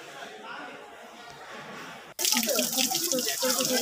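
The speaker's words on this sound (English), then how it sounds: "Here we are at Ganga Dhara, a perennial natural spring water coming from the hills" Perennial natural spring water from the hills pours at Ganga Dhara by a hilltop temple, a steady close rush that swells sharply louder midway as the flow is approached.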